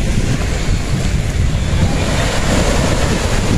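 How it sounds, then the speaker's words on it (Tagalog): Strong wind and choppy surf at Dolomite Beach by the sea, a loud, dense roar of waves and gusts buffeting the microphone, continuous and close with no voices. "Malakas ang hangin"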